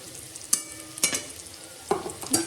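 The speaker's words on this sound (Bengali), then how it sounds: "তো দেখো এই দেখো এখানে ভাজা হচ্ছে" Soybean pakoras frying in hot oil, a quiet steady sizzle broken by a few sharp scraping stirs of a spatula against the pan.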